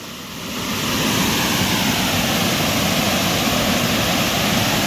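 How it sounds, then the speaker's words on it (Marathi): Floodwater pours over the top of a dam after very heavy rain in Ratnagiri, Konkan, a steady, loud, broad rushing roar that fills the scene without a break. "संपूर्ण पाणी बघा धरणाला संपूर्णपणे धरणाच्या वरून पाणी वाहतंय"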